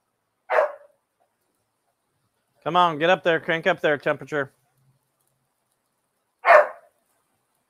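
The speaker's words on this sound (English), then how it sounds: "That's my buddy's dog." A puppy gives two short, sharp barks, one near the start and one near the end, with someone talking close by in the quiet gap between them.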